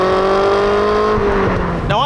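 A Lotus Elise 111S engine revving hard under acceleration, a loud strained drone rising in pitch, then a quick shift with a brief dip before climbing again, heard from inside the car.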